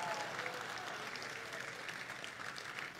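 A church congregation claps loudly together during an anniversary worship service, a dense, sustained wash of applause that holds steady for the whole stretch with no voices breaking through.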